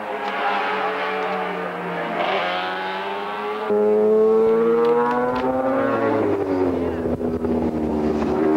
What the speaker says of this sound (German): Hier bei Hilberry Hill in Front Joey Dunlop, der hier eine 500 RS Honda fährt von Honda Britten